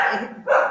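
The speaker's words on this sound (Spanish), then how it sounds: "tengo una perra acá que" A female dog at home barks in one or two short, close bursts that break in over an online meeting, fairly loud against the quiet room.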